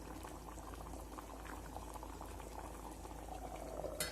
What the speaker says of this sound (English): close the lid, let it boil well. The bhaji is beautifully boiling.